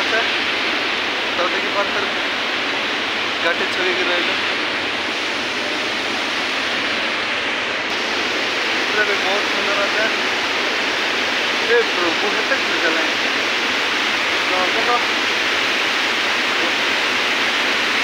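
Water from Gumma waterfall pours steadily over rocks, a loud and continuous rushing hiss that holds the same level throughout, with faint voices at times beneath it.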